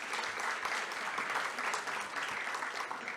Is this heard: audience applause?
yes